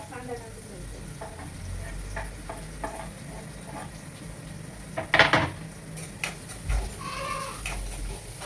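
Peas and onion frying in a pan, a continuous close sizzle with a few louder stirring scrapes and clinks of a spoon partway through.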